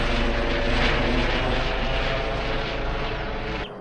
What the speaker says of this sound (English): that helicopter now is going back over towards the